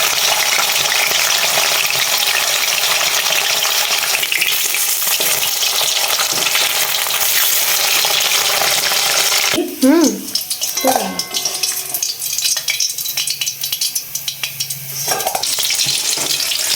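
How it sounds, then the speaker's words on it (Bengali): Nigella seeds and dried chilli hit hot oil for a Bengali fish dish tempering, a dense frying crackle that cuts off abruptly, followed by a few stirring clinks and a softer sizzle in a quiet kitchen. "একটু কালো জিরে আর একটু লঙ্কা ফোড়ন দিয়ে"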